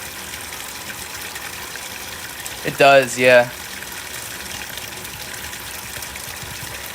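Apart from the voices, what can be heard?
running water filling, before switching over to hot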